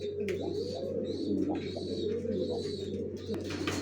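Young racing pigeons coo in a loft. Soft, repeated rolling coos sound close by over a constant low mechanical hum.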